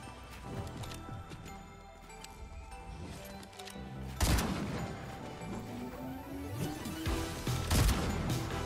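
SMG fire in a multiplayer shooter, scattered bursts and sharp bangs among other combat sounds, with a couple of loud impacts standing out and no voices.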